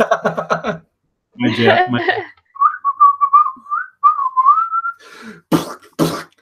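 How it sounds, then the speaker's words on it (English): A person whistles a wavering little melody from Disney's Robin Hood up close, framed by short bursts of speech and a brief chuckle before and after. "I'm also whistling"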